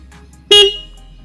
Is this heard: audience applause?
no